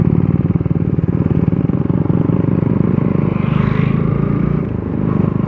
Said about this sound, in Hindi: यहाँ पर दूसरा बाइक आ गया, दूसरा बाइक जा गया